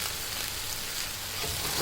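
Fried rice sizzles steadily in a pan as soy sauce is mixed in, a loud, close, continuous hiss with no talking.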